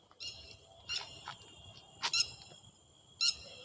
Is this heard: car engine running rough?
no